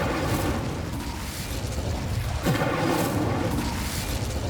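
Magical Bombarda and Incendio spell blasts from the game Hogwarts Legacy, a dense, continuous wash of booming explosions and roaring fire with one deeper thud near the middle, loud and sustained throughout.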